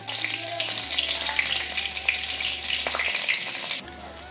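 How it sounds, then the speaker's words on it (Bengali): Black cumin and split green chilies sizzle in mustard oil in a kadai, a steady loud hiss and crackle that runs throughout, dropping slightly toward the end. "कड़ाईते दिয়েছি সরষের तेल, फोड़ने दिচ্ছি कालो जिरे और चेरा काँचा लंका।"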